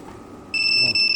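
A Honda Fazzio scooter's antitheft alarm cuts in with a loud, piercing electronic tone that holds steady with brief dips, over a low background murmur.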